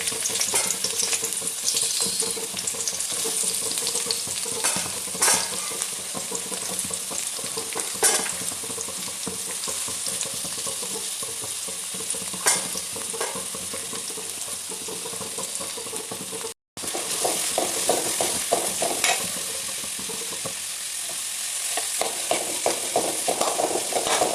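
Onion, ginger, garlic and green chili sautéing in a pan give a steady, close sizzle with scattered stirring clicks and scrapes, broken by a brief silent gap midway before the frying resumes.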